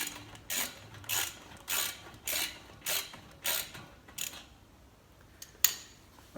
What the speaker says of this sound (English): And then just take your socket and just tighten it up